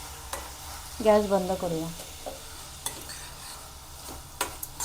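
A sweet filling mixed with poppy seeds and cardamom is stirred in a pan with a few scattered scraping taps over a low hiss. A voice speaks briefly near the start.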